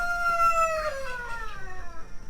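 A meat chicken on a homestead gives a single drawn-out crowing call, moderately close, fading out over a quiet background with no talk.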